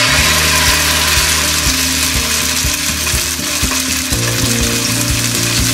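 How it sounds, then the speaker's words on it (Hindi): Mackerel frying in coconut oil in a pan gives a loud, steady sizzle with a continuous hiss over low background hum, no talking. "आइए अभी इसे तेल में फिश को फ्राई कर लेते हैं।"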